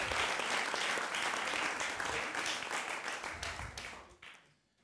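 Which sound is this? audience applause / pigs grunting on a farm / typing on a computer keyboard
audience applause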